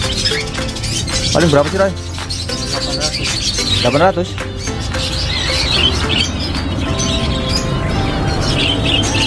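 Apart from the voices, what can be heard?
songbirds chirping at bird kiosk, Australian parakeets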